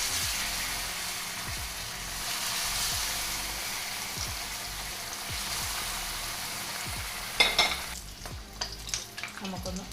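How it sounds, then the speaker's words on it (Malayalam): Banana fritters dipped in cornflour batter fry in hot coconut oil with a dense, steady close sizzle, then sharper splattering and clinks as the pieces are turned, no voices. "ഇത് ചൂടായ എണ്ണയിലേക്ക് ഇട്ട് വറുത്തെടുക്കാം."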